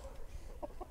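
Chickens in a mobile coop on a tropical permaculture homestead give a few soft clucks, close and fairly quiet, with two short bursts near the end over low background rumble.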